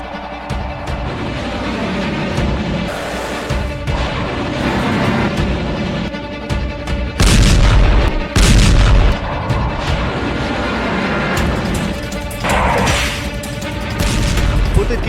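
Heavy booms and rumbling blasts from a B-2 bomber airstrike in Yemen, several loud impacts standing out over continuous roaring, crackling noise.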